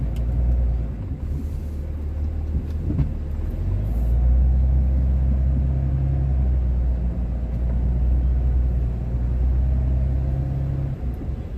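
Dodge Ram pickup with a Cummins diesel pushing a plow blade through heavy snow, a loud, steady low engine rumble with rough, shuddering variations throughout.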